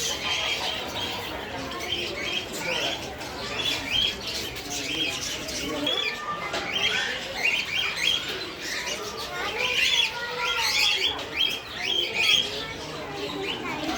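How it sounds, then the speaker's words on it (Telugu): Java sparrows chirp and tweet in a dense, continuous chorus. Pigeons coo and wings flap among the birds in an aviary-like setting, while voices talk faintly underneath. "Java sparrows."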